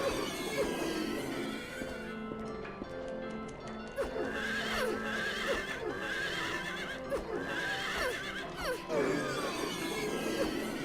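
A horse in the Silent Hill 3 video game neighs and whinnies repeatedly while its hooves clip-clop steadily, loud and close, with a few sharp crashes mixed in.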